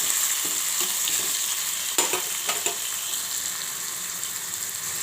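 Green chillies and onions fry in hot oil for a gram-flour curry, a steady loud sizzle broken by a few sharp scrapes and clacks of a spoon stirring through the pan, with no voices.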